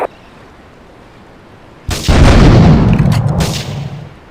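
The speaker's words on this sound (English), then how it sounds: "Investigate reported gunfire and explosions." Loud burst of gunfire and heavy booms in Grand Theft Auto III erupts after a quiet stretch, sustained and dense, with rattling shots layered over rumbling explosions.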